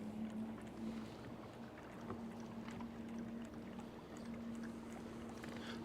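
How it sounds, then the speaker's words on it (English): Wind rising over Lake Oroville during a spring fishing trip, a steady low rush and buffeting on the microphone with a faint hum beneath, quiet and continuous, with no talking. "The wind's starting to pick up a little bit."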